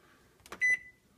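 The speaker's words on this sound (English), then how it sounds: "Hamburg's in the microwave, de-thaw by weight." A microwave oven set to auto defrost by weight for one pound of hamburger gives a single clear electronic beep after faint kitchen handling sounds.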